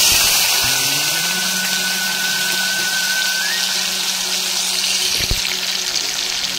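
Whole dried red chilli and a pinch of cumin seeds dropped into hot oil for tempering, giving a loud, steady hiss and sizzle close by without pause, with a brief clatter near the end.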